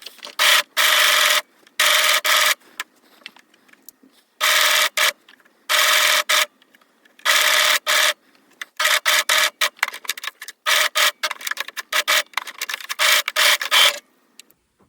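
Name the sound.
sewing machine stitching fabric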